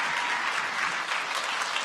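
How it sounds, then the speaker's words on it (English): Audience applause at the Startup World Cup Finland 2018 startup competition, a dense, even burst of clapping from a large crowd that holds steady, with no talk over it. "give a round of applause again for Word Dive"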